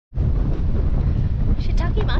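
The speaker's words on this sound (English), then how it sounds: "It is windy." Strong wind buffets a microphone on a beach in Far North Queensland, Australia, a constant loud low rumble across the whole clip, with brief higher sounds near the end.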